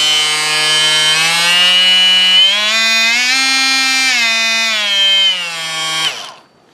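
A Kobalt oscillating multi tool runs loud and close in a steady high buzzing whine, its pitch rising briefly mid-run before it switches off and the sound cuts away.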